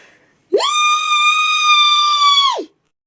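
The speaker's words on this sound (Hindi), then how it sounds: "जानवी डरकर जोर से चीखती है" A woman lets out a single loud, sustained scream of terror in a horror story, held for about two seconds on one high, steady pitch before it drops off into silence.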